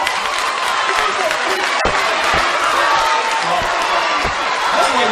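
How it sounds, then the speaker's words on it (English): A large audience at a live speaking event claps and cheers at the same time, a dense and steady roar of applause that stays loud for the whole stretch, with crowd voices mixed in. "What are you applauding?"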